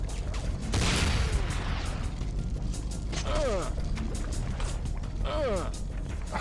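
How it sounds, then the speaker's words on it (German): Bursts of gunfire in the 2002 video game Command & Conquer: Renegade, several sharp volleys over a steady rumbling game background while someone talks over the action. "Wer ballert denn?"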